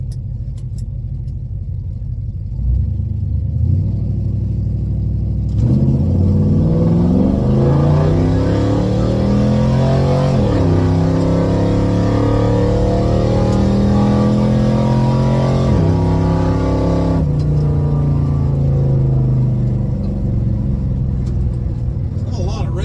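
A 1970 Chevelle engine with drum brakes idles roughly, then roars through a long climb of revs in a drag-style launch, heard loud and close from inside the car before easing back down.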